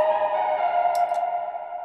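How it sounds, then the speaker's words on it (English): A piano part in an FL Studio beat, washed in reverb for an ambient feel, rings as a sustained, blurred tone with a few faint high ticks over it. "Then I added some reverb"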